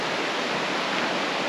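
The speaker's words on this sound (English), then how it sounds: "Got the river going right there." A river on the Trail of Cedars in Glacier National Park rushes in a steady, loud, broadband wash with no pauses or voices.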